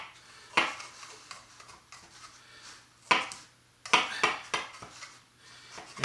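A knife's back scrapes and taps around the rim of a cherry pie dish, trimming excess dough in a few sharp, separate metallic knocks and scrapes with quiet gaps between.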